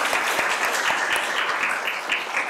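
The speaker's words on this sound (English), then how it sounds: "let's give you a round of applause for that." Audience applause at a panel conversation on religious liberty, a steady dense clatter of many hands clapping throughout, loud and close with no talk over it.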